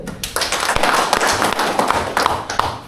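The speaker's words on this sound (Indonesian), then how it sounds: "kami berikan tepuk tangan" Applause from a crowd at a public gathering, with dense, steady clapping that carries on throughout at a fairly loud level.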